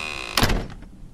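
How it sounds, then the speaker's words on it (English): A door is struck hard in the horror game Room 202, producing one heavy, close thunk with a short rattling decay, over a faint steady background hum. "Man, just clocked the fuck out of the door."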